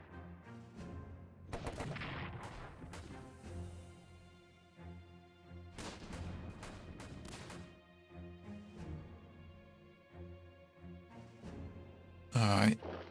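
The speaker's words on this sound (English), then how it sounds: "Hey, defensive artillery." Defensive artillery in the WWI strategy game Strategic Command WWI, several booming shots and crackling bursts spread across the stretch, sitting under quiet background sound and ending with one loud sharp blast.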